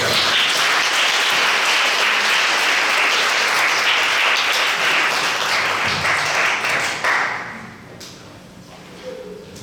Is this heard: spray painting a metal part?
no